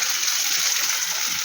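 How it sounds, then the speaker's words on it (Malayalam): Half a glass of water poured into a pan of jackfruit seeds and banana stem, a brief close gushing splash that ends with a small knock. "അര ഗ്ലാസ് വെള്ളം ഒഴിക്കാം."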